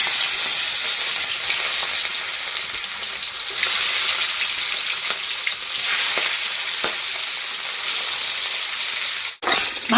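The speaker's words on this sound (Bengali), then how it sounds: "তেলের মধ্যে একে একে মাছগুলো ছেড়ে দিচ্ছি।" Pieces of katla fish sizzle loudly in hot oil, a steady close frying hiss with small stirring clicks, then a brief lull and a fresh burst of sizzle near the end, with no voices.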